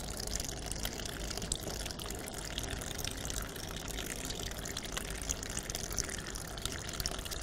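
Water runs steadily from a tap in a continuous, even splashing stream during handwashing, close by, with no voices.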